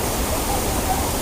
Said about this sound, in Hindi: ये कितना मस्त यहाँ पे झरना है